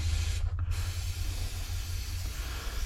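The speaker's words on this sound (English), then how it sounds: "we are going to spray it down and try to clean it up" A short, sharp hiss of brake cleaner spraying from an aerosol can onto a snowblower carburetor, set against a steady low engine-like hum.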